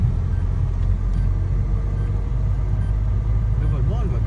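A Renault Laguna 2 1.9 dCi with an injection fault keeps driving, its low engine and road rumble steady and close.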